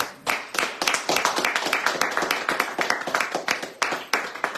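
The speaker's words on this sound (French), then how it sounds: "alors on les applaudit" A small audience claps, the individual hand claps distinct and closely spaced in a sparse, uneven patter that continues for several seconds.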